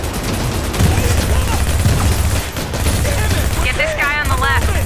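Bursts of turret gunfire and fusillade in the Manhattan setting of Tom Clancy's The Division, loud and sustained, with shouting voices and game effects mixed in.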